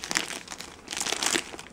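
Paper wrapping peeled off a Lush Easter soap, a continuous close crinkling and rustling that swells and eases for nearly two seconds with no speech.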